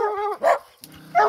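Small dogs, including a mini Aussie, bark in short sharp bursts while treeing a mountain lion outdoors, two or three loud close barks with a whimpering yelp between them.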